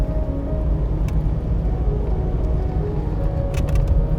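A modified 2006 Nissan Patrol on 35-inch tires drives across Iceland, its low engine and road rumble steady and close from inside the cab, with a few faint knocks and rattles.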